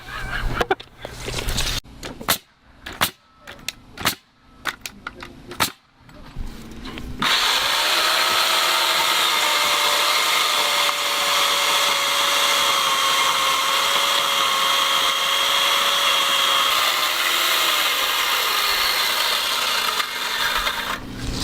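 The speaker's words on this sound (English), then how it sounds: "Beam cutter. Whoa! It's like a chainsaw." A beam saw rips through 6x lumber in one long continuous cut of nearly fifteen seconds, loud and close with a steady whining buzz, preceded by several sharp knocks and bumps as the wood is handled.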